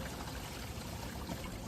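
An RV toilet holding tank drains into a dump drain with a quiet, steady rushing trickle of liquid that runs without a break.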